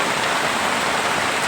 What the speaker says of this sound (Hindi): और बारिश गिरना चालू हो गया है